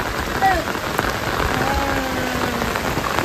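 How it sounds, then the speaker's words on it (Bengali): Rain falling on a main road at a crossroads, a dense, even patter of drops on the wet surface heard close and continuous for a few seconds. "এই যে দেখুন বৃষ্টিটা দেখুন খালি"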